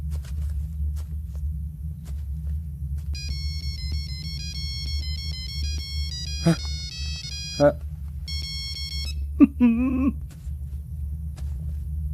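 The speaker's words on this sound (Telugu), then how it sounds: "Ring tone sir. Ring tone." An electronic phone ringtone plays a repeating beeping melody over a low background hum, broken by a few brief voices.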